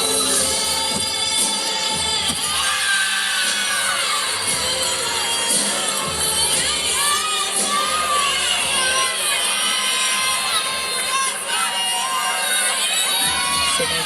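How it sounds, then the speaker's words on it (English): A crowd at a women's college gymnastics meet in Anchorage, UC Davis against Oregon State, cheers loudly and without a break, with shouts and whoops layered throughout. "The whole crowd just had a lot of energy throughout that routine, was cheering after every single skill she completed successfully"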